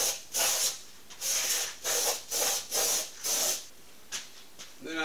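Repeated short bursts of silicone spray hiss, about seven quick sprays in a loose rhythm, close up with no talking, while changing the back tire on a Honda CRF 300L.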